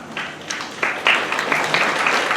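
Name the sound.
sparse audience applause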